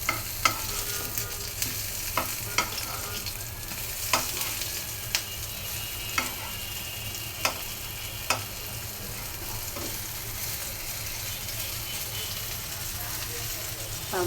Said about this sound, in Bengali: ছাদ বাগানে বেগুন ভাজা হচ্ছে।